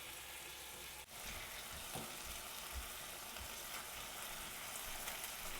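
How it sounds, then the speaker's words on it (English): Liver browning in a frying pan gives a faint, steady sizzle with scattered small crackles that continue without a break and without any voices. "we're really just going to be browning that up until it's no longer pink in the center"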